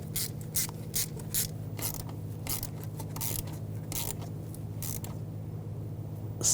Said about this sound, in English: And tighten down the hose clamp.